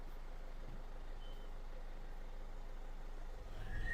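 A Ford Everest's engine runs in drive with a stuck torque converter: a low, steady, shaking idle rumble close by that swells slightly near the end.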